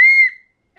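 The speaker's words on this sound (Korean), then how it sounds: "요거랑 세트인데 요거 호루라기에요." A baby's toy whistle gives one short, loud, close shrill blast that quickly dies away into silence.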